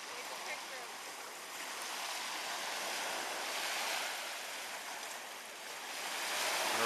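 Ocean surf on a Florida beach as the tide comes in, a continuous broad wash of breaking waves with gentle swells in loudness and some wind buffeting.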